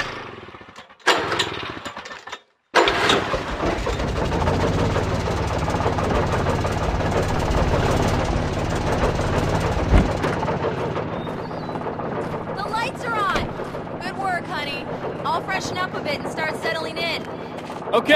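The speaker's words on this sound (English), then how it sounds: "An old generator had been connected to the power cable." An old generator chugs loudly in the video game Alan Wake, a dense rattling engine drone that starts after a brief gap and runs steadily, with faint voices near the end.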